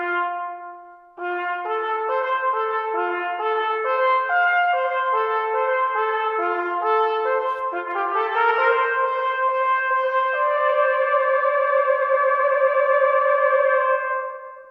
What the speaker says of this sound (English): There's Cathedral. I've never heard a cathedral sound so dead. I guess let's try turning it all the way up.